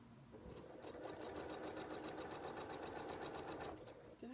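A sewing machine stitches in a fast, even mechanical chatter, starting and running steadily at close range for a few seconds before stopping abruptly, with no talk during the run.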